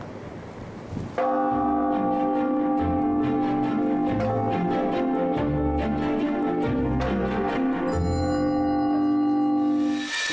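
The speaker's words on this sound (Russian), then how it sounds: "И закрепить это колокольным звоном" A church bell in Kharkiv rings continuously with a rich, sustained metallic tone and repeated strikes, loud and close, with no talking.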